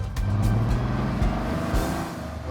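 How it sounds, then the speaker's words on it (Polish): A boxer engine in a targa car revs in short, eager bursts, a close, moderately loud rumble that rises and falls twice in quick succession. "Ta lekkość wkręcania się tego silnika boksera"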